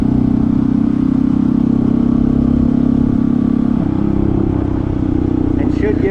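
Honda CT125 motorcycle with a 142cc big-bore engine pulling hard uphill in fourth gear, a steady loud mid-pitched engine drone throughout with a slight shift in tone near the end.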